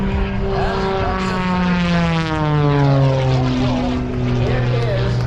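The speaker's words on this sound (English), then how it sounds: "the torque of the engine takes over and starts to spin the aircraft further" A propeller aerobatic airplane engine at an airshow drones loudly through a spin, its pitch sliding steadily downward with a strong, continuous buzzing tone.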